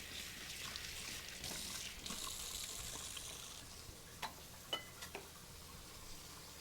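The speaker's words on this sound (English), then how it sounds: "Give these a quick rinse." Peppers are rinsed under a running kitchen tap, a faint steady hiss of water for several seconds, followed by a few soft knocks and splashes.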